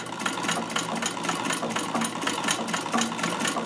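A late-1800s Davis vertical feed sewing machine driven by its treadle runs steadily with a fast, even mechanical clatter and rhythmic knocking, close and loud, alone without talk.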